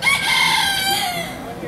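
A rooster at a Wisconsin deer park crows once, loud and close, in a single drawn-out call that slides downward in pitch and fills the whole short moment.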